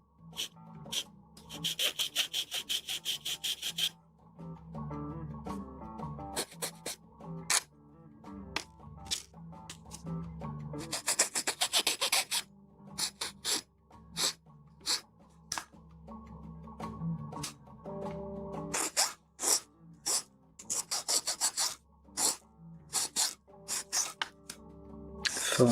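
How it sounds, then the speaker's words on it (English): A straight file rasps against a plastic part from a 1/144 HG Bandai Gerbera-Tetra Gundam model kit, in clusters of quick, close strokes separated by quieter pauses and small clicks. "Follow the curve and filing with a straight file."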